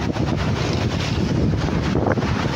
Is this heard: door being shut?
no